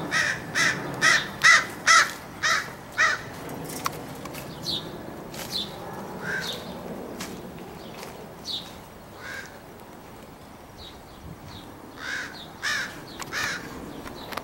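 Young crows calling outdoors from trees, a series of harsh raspy caws in quick bursts, some loud and close, others fainter and farther off, with pauses between.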